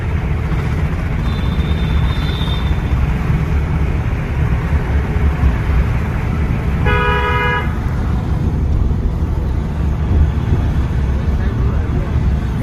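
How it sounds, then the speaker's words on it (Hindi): A car's engine drones steadily throughout a driving-school lesson, with a brief horn toot midway and voices talking over the constant road noise. "चल अब रेस दे"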